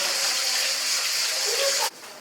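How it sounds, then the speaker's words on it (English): Water pouring steadily from a marble-decorated fountain in the Greek village of Kardiani on Tinos, a close, continuous splashing gush that cuts off abruptly near the end. "here you can see one water source which is like a fountain, which is beautifully decorated with the marble"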